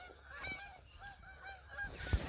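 Canada geese honk repeatedly from a flock in an open farm setting near crop test plots, a series of nasal calls overlapping at moderate distance against faint background noise.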